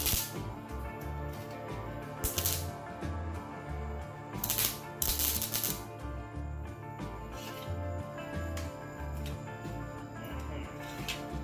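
Flux core welding on sheet metal for a 1974.5 MG MGB floor pan, a close crackling, sputtering arc with irregular bursts and a repeating low buzzing rhythm running continuously throughout.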